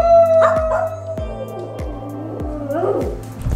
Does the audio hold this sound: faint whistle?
no